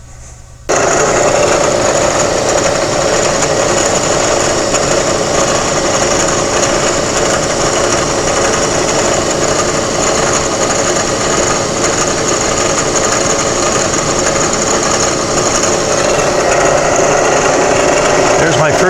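A machine mills metal tap wrench jaws in a single setup, giving a steady, loud whining drone with a high sustained tone that runs unbroken throughout.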